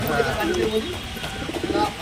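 Pigeons coo softly in short rolling phrases at the Garia pigeon market in Bengal, close but low, mixed into market bustle and nearby talk.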